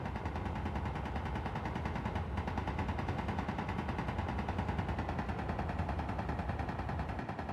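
Enemy gun fire in a survival video game, a dense, continuous rattling burst that runs unbroken from start to end at an even, fairly loud level, with no talking over it.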